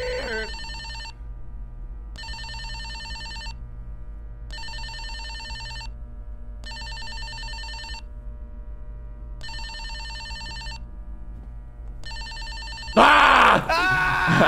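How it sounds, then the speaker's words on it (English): Radios in the Backrooms video game ring like an old telephone bell. Six evenly spaced bursts, each about a second long, repeat with steady gaps. A loud, sudden voice bursts in at the very end. "They make phone noises so we can find each other"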